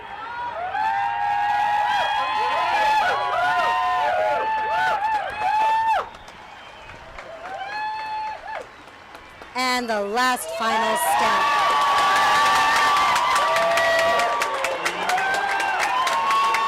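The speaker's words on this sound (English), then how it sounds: "And the crowd is going nuts." A crowd cheering, whooping and applauding at a high-wire walk, loud and sustained, with a voice talking over the noise and a brief dip midway before the roar returns.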